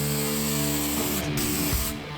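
Gloss white spray paint hissing steadily from an aerosol can onto the metal of a 4x4 canopy during restoration, a continuous close, loud spray with a brief pause near the end.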